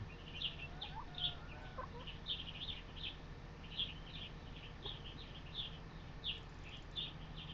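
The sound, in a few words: chickens clucking in video game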